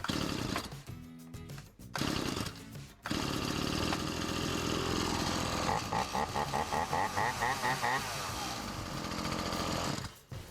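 A flooded chainsaw, now cleared, fires up on a normal start and settles into a loud, steady idle with a rapid pulsing rattle before cutting out near the end.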